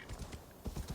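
Hooves clip-clop in quick, regular beats as a horse gallops uphill through snow in Assassin's Creed Valhalla, close and fairly loud over a short burst, with no talking.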